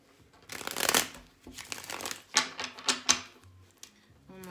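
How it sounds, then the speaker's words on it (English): A deck of tarot cards is shuffled in a series of quick, papery riffling bursts, close and fairly soft, with short pauses between the rounds and no voices. "One more shuffle."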